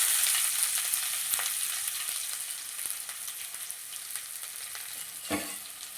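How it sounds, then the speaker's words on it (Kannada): Cinnamon, cloves and onion fry in hot oil with a steady close crackling sizzle, and a spoon occasionally stirs and scrapes the pan. No voices are heard. "ಎಣ್ಣೆ ಕಾದ ಮೇಲೆ ಈರುಳ್ಳಿ ಹಾಕ್ಕೊಳ್ಳೋಣ"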